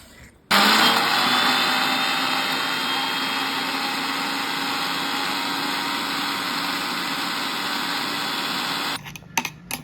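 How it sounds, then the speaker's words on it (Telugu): A kitchen mixer grinder blending green chillies for tomato chutney starts abruptly and runs as a loud, steady whirring drone for about eight seconds, then cuts off with a few clattering knocks. "ఇప్పుడు పచ్చిమిరకాయలు మిక్సీలో వేసేయాలి"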